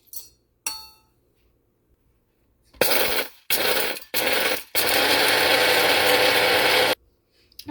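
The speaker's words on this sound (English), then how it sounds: "I'm going to put 2 tablespoons of coarse Himalayan salt, and I'm going to grind for 30 seconds" An electric two-blade coffee grinder chewing through coarse Himalayan salt: short loud bursts of rattling, gritty whirring, then one long sustained grind of about two seconds, close and loud with no talk.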